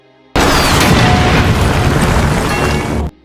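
An RPG rocket fired at a church blows up in a loud, sustained boom that roars for almost three seconds before cutting off abruptly.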